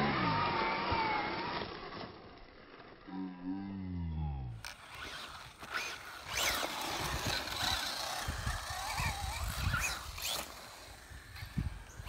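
Traxxas Slash 2WD VXL short-course RC car on Pro-Line Blockade M3 tires tearing around a dirt track, its electric motor whining and revving in rising and falling bursts, with tires scrabbling over loose dirt.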